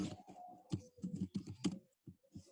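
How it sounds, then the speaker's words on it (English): Typing on a computer keyboard, a close run of quick irregular key clicks and taps with brief pauses, fairly quiet and with no talking. "And now I can type here"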